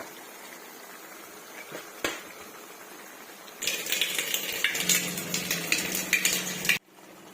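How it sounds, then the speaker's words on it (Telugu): Metal utensil scraping and clinking against a pot, growing busier and louder midway as country chicken and tomatoes are stirred and turned, with a faint bubbling beneath. "ఇప్పుడు ఆ చికెన్లో టమాటాలు వేసుకొని నాలుగు మొత్తం కలిసేలా తిప్పుకోవాలి"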